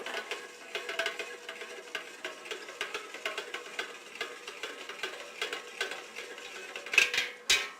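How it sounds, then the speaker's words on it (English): Homemade wine mixture with settled sediment being stirred, heard as a rapid rhythmic run of scraping, rattling strokes with a couple of louder knocks near the end, no voices. "I am going to stir the whole mixture up."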